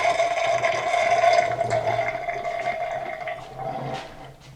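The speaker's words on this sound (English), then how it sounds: "I have some nice warm water that's clean, clear. So I'm going to rinse out the drain portion first." Warm water running and splashing as it rinses out the drain portion of a freeze dryer chamber, a steady continuous pour with slight gurgling that eases off toward the end.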